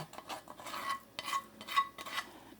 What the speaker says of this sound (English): we're just going to scrape this out of the skillet into the bowl